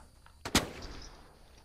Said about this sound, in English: Did someone just shoot at me?